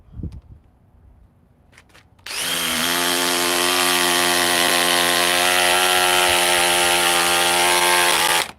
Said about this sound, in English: This is the hydraulic 870. Let's get it warmed up.